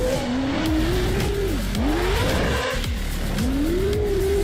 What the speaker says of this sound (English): This is from Flying Brian. This is Beast X Class FPV